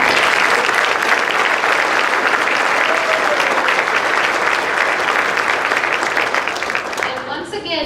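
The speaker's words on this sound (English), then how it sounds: "would like to also give you a round of applause" Dense, steady audience applause from a large crowd at a school district awards evening honoring faculty and staff, continuous and loud throughout, with a brief voice near the end as it starts to thin.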